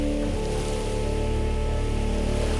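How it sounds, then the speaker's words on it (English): Ocean waves and wind roll steadily across the sea in a dense, continuous wash with a low hum underneath, loud and close, with no voices. "she let the wind and the waves carry her gently across the sea"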